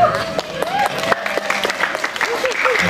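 An audience at a sermon breaks into clapping that runs throughout, mixed with a speaking voice and crowd noise in a lively hall.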